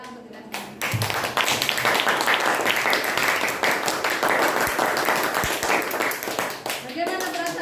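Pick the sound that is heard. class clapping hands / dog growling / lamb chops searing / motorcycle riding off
class clapping hands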